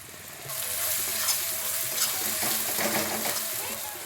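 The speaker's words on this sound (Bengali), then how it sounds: "এবার খুব ভালো করে কষিয়ে নেব মশলাটা" Spice paste with sugar and garam masala stirred and fried in a pan for a banana-flower dish, a continuous sizzle that rises after a quiet start, with a spatula scraping repeatedly close by.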